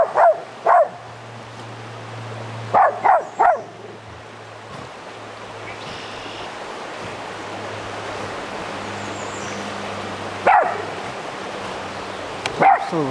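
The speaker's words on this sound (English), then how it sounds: "Oh, now what are you barking at?" A dog barks in a few short bursts near the start, again around the middle and once more near the end, over a steady flowing stream while trout fly fishing on Memorial Day.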